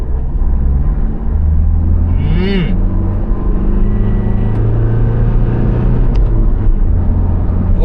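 2025 Toyota Innova Crysta engine pulling hard at full throttle from about 40 km/h and 1,500 rpm in power mode, a loud steady cabin-level drone and rumble that climbs gradually, with talking over it.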